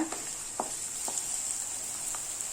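Garlic and onions sizzle in a hot pan, a steady bright frying hiss with a few soft stirring taps, close and moderately quiet with no talking.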